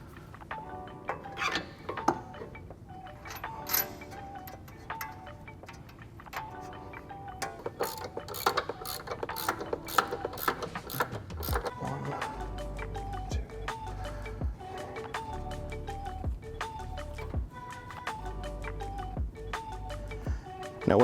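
Hand tools working on a front control arm bushing of an Audi B9: irregular metallic clicks and taps of ratcheting and fastening, with a steadier mechanical run of rapid clicks later on, moderately close and without talk.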